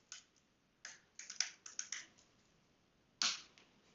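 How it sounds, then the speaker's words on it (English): Keystrokes on a computer keyboard entering the ssh-keygen command: a few scattered clicks, then a quick run of close, crisp taps, a pause, and one louder final keypress, with no voices. "So what we do is we just type in SSH keygen"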